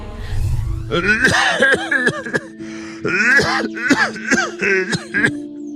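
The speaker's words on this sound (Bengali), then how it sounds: "কি কাশি কাশছ গো" An animated cartoon character coughs hoarsely several times in a row, close to the microphone, with strained throaty breaths between the coughs.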